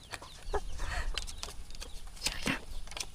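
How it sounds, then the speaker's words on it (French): A hen wandering near a person outdoors in Indonesia, clucking in a few short, fairly close bursts over steady background noise. "La poule vient me voir."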